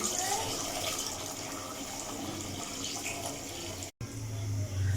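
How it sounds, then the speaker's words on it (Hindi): Water runs steadily into a cooking pot of aloo gosht, a continuous splashing pour with a brief break near the end, then a lower, fuller gush. "जी दोस्तों, तो अब हम इसमें पानी ऐड करेंगे।"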